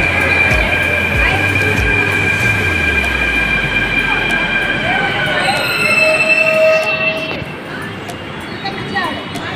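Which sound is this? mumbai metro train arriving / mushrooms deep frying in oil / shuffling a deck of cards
mumbai metro train arriving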